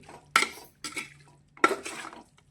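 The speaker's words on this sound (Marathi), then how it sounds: "याला आपण हलवून घेऊ आता. चांगलं एकदम असं हलवून घ्यायचं चांगल्या पद्धतीने." A spoon scrapes and clanks against a pot while stirring raw chicken dum biryani mixture with the gas off, two sharp strikes followed by short scraping sweeps, close and fairly quiet, no talk.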